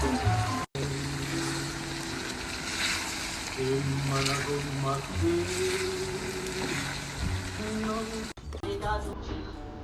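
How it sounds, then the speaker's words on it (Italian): Cooked spaghetti is drained the old-fashioned way, its pasta water pouring out in a steady rushing stream for about eight seconds, with music playing over it. "coliamo gli spaghetti alla vecchia maniera"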